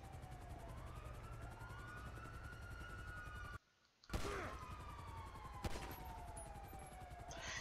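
Gunfire erupts during a police callout in GTA V with the LSPDFR mod: a sharp burst of shots cuts in after a brief dropout, then another crack, all over continuous wailing sirens.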